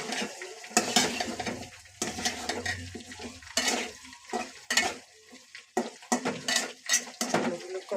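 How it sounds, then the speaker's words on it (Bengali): Potatoes being sautéed in a pan alongside frying fish, with repeated loud spatula scrapes and clanks against the metal over a light sizzle, close and busy throughout. "এখানে আমার আলুগুলো কষানো হচ্ছে আর এদিকে মাছ ভাজা হয়ে আসছে প্রায়।"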